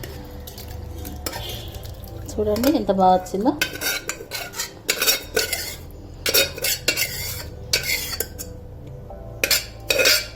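Spoon clinks and scrapes against a pot as mutton kheema is scooped into a serving bowl. The metallic knocks come in irregular bursts, and a voice speaks briefly between them.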